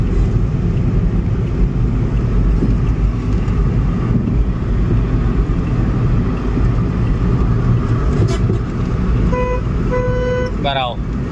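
A truck overtakes on a road in drizzling rain, heard as a steady loud road and engine roar, with brief horn toots near the end and a voice talking over it.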